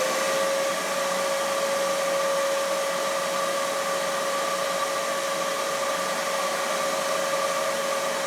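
Shop vacuum running steadily on a sandblasting cabinet with its doors open, giving a continuous loud whining rush with a steady tone and no breaks.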